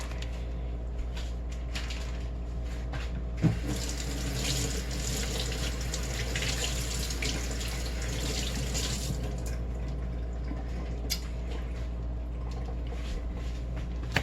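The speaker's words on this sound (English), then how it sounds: "give it a little quick rinse" Raw meat rinsed under a running kitchen tap, a steady close hiss and splash of flowing water lasting the whole stretch, with one brief knock of handling partway through.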